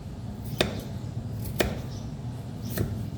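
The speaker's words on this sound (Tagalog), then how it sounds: "pag nagluluto ako ng tinola, pinipino ko tong ano, luya para masarap kainin" Ginger being minced for tinola: three sharp knife strikes on a board about a second apart, close and fairly quiet over a low background murmur, with no talking.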